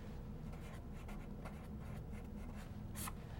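A math equation written by hand, pen or pencil scratching in short strokes and taps, close and soft over a steady low background hum.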